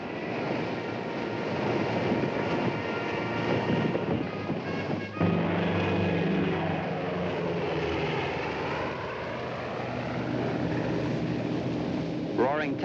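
Heavy armored B-24 bombers roar about ten feet over desert dunes at 200 miles an hour, a loud sustained engine drone with a sweeping pass midway, blended with wind noise.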